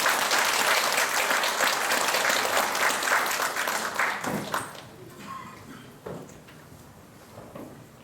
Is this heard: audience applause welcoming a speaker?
yes